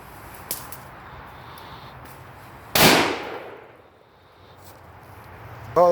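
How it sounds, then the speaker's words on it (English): A .270 rifle fires a single sharp, loud shot at bulletproof glass outdoors, a sudden crack that fades into a long echoing decay, with a faint distant pop before it and another burst starting at the very end. "Next is gonna be out of 270, out of Tom Smith rifle"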